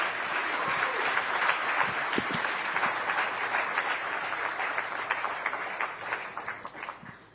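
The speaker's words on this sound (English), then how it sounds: "can we have a big round of applause?" Big round of applause from an audience welcoming the Home Minister of India, a dense, steady wash of many hands clapping that tapers off toward the end.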